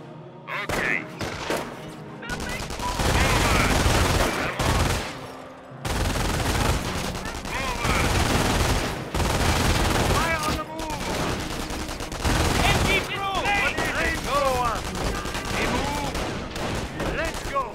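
Video game battle with bursts of gunfire and rapid machine gun fire, loud and dense in several waves, with brief pauses and shouted commands mixed in.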